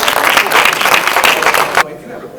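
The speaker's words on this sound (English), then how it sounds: "Let's give them a round of applause again." A conference audience gives a round of applause, a dense, close clapping that runs steadily for under two seconds and then stops abruptly, leaving quiet room tone.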